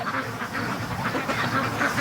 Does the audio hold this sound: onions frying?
no